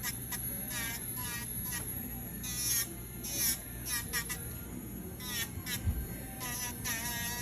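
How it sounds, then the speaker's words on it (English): A small Dremel electric file buzzes steadily up close as it smooths the rough edges of a toenail at a podiatry visit, whirring continuously with slight rises in pitch while people talk quietly over it. "This is called a Dremel, or a little electric file."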